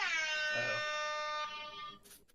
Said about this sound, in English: Do you actually have an air horn?